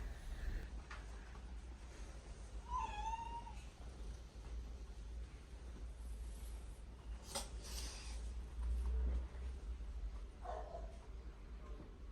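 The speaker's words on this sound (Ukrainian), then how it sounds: "Викинутий британський кіт з вірусом, дуже хворий, дуже-дуже контактний." A sick, abandoned British cat with a virus gives a single short meow, faint against a constant low background hum, with a few soft rustles and clicks around it.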